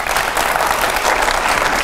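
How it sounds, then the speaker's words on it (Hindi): Studio audience applause as guests walk onto a Hindi television debate set: steady, dense clapping, loud and close, sustained without pause and with no voices over it. "जोरदार तालियां हो,"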